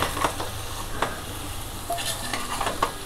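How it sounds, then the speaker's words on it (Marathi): A spoon stirs pumpkin bhaji with salt and tempering in a pan, giving soft scraping strokes and occasional clinks over a continuous gentle sizzle close by. "आता मीठ घातले तर व्यवस्थित ढवळून घेऊया।"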